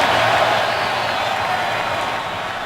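Roaring stadium crowd at a 2016 NFL Week 2 game, Jets at Bills in Buffalo: a steady, dense wall of cheering and noise, loud and sustained throughout, easing slightly toward the end.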